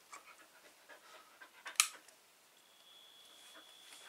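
A dog pants with quick, soft, rhythmic breaths close by, a brief sharp click cutting in midway, followed by a thin steady electronic whine.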